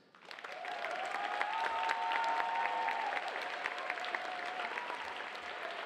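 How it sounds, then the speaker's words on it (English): A school pops concert crowd applauds the teachers, the clapping swelling quickly and holding steady and fairly distant for several seconds, with a faint whistle-like cheer rising through it. "how about a big round of applause for all the teachers?"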